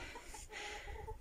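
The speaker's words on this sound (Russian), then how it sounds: "Вот это вот наседка курица." A broody hen clucks in a short series of soft, repeated calls over a steady farmyard background, close by and moderately loud.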